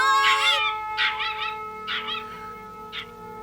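Cartoon puppy in an animated show giving a string of four short, high yipping barks and whimpers, spaced about a second apart, the first longest, over a steady tonal music bed.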